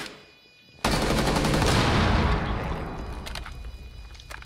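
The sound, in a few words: gunshots in the video game Siege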